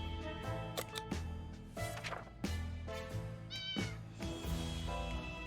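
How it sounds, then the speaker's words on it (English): Repeated meows of a cat in the survival game 60 Seconds!, several drawn-out cries in a row over quiet game music, fairly close and clear. "That sounded like a cat."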